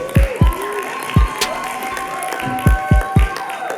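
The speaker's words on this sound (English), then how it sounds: "You guys applaud like my parents do every time I walk out of the house." Audience applause greets a Christian comedian, Chris Wineland, as he returns to the stage. Steady clapping is broken by several deep, hollow thumps close to the microphone.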